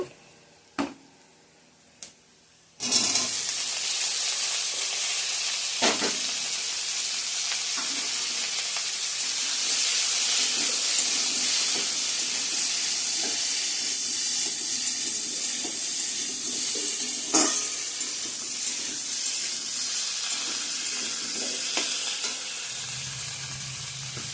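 Potatoes drop into hot oil after a couple of sharp knocks, setting off a loud sustained sizzle that hisses evenly for the rest of the time, close up and without speech.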